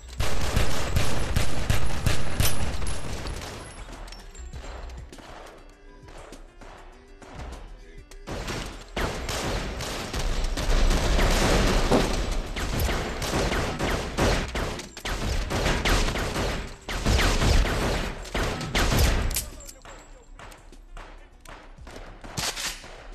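Dense bursts of gunfire from a shooting-range scene in the film Set It Off, with loud rapid volleys and overlapping shots broken by brief lulls.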